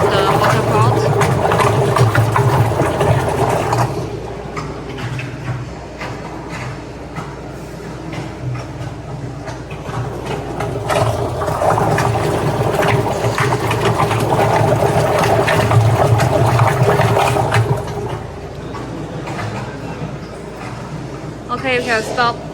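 A loud, steady mechanical whir and churning from a 100-litre vacuum emulsifying mixer dispersing water, with a brief dip in level midway and speech faintly under it.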